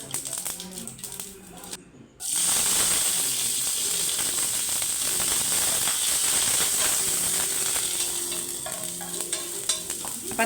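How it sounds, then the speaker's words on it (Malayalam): Mustard seeds splutter and crackle in hot oil for a chutney tempering, a loud continuous sizzle with dense popping that starts abruptly after a quiet moment and carries on steadily to the end. "ഞാനിനി ചട്നി കടുക് പൊട്ടിച്ചെടുക്കട്ടെ കേട്ടോ"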